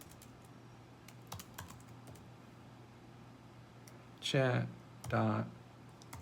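Quiet clicks from a computer keyboard come in a few brief bursts, mostly under and between a person talking.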